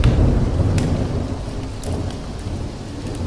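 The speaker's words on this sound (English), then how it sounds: "a thunderclap booms outside" A deep thunderclap rumbles loud and low through steady rain, the boom strongest at the start before it fades into a lingering rolling growl with pattering drops, no voices.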